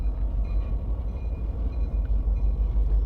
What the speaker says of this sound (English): you got a train going by, hauling some lumber a little bit